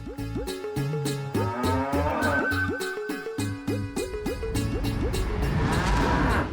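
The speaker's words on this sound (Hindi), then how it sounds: "वो काली वाली भैंस है ना, उससे जाके ले लो।" A black water buffalo lowing repeatedly in loud, rhythmic moos over a steady rumbling background, with no talk.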